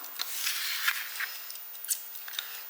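Scissors snip through the bottom of a small plastic cup, a close series of crisp, irregular cuts and plastic rustling heard alone at moderate volume.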